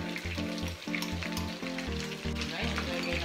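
Pork frying in a pan with meat sauce, sizzling loudly and steadily up close, with rhythmic stirring scrapes repeating throughout.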